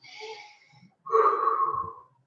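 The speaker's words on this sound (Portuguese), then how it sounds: "quando eu inspiro na respiração" A person breathes audibly, a softer airy breath followed by a stronger, louder inhale through the nose and mouth, close to the microphone.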